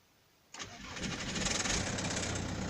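A Manet Korado Puch TX-1 scooter, off the road for two months, fires up after a moment of quiet, its small engine catching abruptly and settling into a steady buzzing idle, close by, with no talking.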